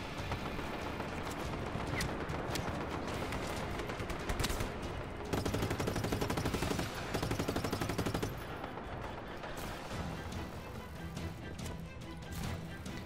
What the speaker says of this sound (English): someone shooting from down below